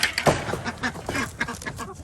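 Ducks quacking close by in a rapid, overlapping chorus of short, raspy calls, loud and continuous throughout.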